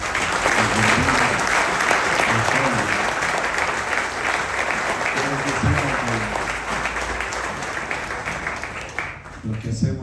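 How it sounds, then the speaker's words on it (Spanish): Dense, loud applause fills a church congregation's space for about nine seconds, with voices and cheers mixed through it, then thins out near the end. "Entonces denle un aplauso a Jesús por eso."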